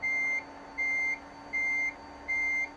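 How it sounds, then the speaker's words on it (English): A backup beeper sounds on an electric truck pulling a trailer in American Truck Simulator: four evenly spaced, high, clear electronic beeps over a low steady engine hum. "hearing the backup beeper, I think my microwave's going off"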